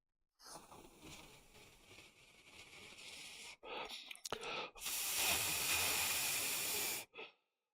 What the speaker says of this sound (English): Start blowing on it.